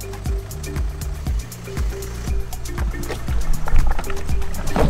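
A black Sea-Doo RXP jet ski engine runs close by, with a steady low, throbbing drone and rhythmic pulsing that swells slightly louder toward the end.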